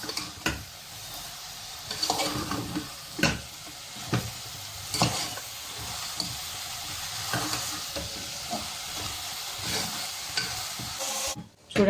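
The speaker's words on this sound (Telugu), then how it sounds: "ఇప్పుడు ఇదంతా బాగా మిక్స్ చేసుకోవాలి." Ridge gourd fry being stirred in a hot pan, steady sizzling with repeated scraping strokes of the spoon against the pan, close and alone without talk.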